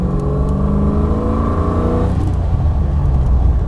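A Hyundai Stellar fitted with a V8 and an Edelbrock four-barrel carburettor revs loud and close, a steady rising engine drone that drops away partway through into a rougher, lower rumble.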